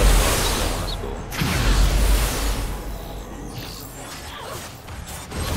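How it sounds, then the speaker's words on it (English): A car explosion in the video game Fallout: New Vegas, a deep rumbling boom with a rushing, crackling tail that swells and lingers, loud and full-bodied with no talk over it. "Oh, I love car explosions."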